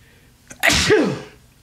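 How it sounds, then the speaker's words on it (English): A single sharp sneeze with a quick intake before it, close and loud, followed by a fading breathy tail. "I sneezed in my hand."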